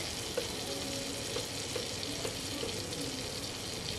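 Flour and pasta sauce ingredients sauté in a pan with a constant close sizzle, marked by occasional light stirring clicks and scrapes.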